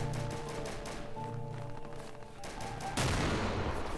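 Rapid gunfire and heavier artillery blasts from a multiplayer war video game, played as a dense, continuous barrage of overlapping shots that swells louder in the last second.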